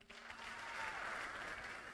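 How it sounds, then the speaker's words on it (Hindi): An audience at a Safe Shop success seminar in India breaks into sustained applause, a dense wash of clapping that builds quickly and holds steady. It sounds somewhat distant and moderately quiet. "तो मैं चाहूंगा उस आदमी के लिए भी जोरदार ताली बजाइए आप।"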